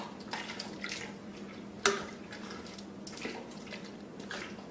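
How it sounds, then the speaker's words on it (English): Paper tags are dipped into coffee dye water, giving faint, soft sloshing and trickling with one brief, sharper splash early on, close by and quiet. "Submerging in the water."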